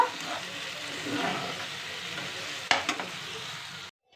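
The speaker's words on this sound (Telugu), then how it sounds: "మంచిగా ఫ్రై చేసుకోవాలి. ఇది కొంచెం ఆయిల్లో." Paneer curry frying in oil gives a steady sizzle with stirring, then a sharp clatter of a spoon against the pan before the sound cuts off abruptly near the end.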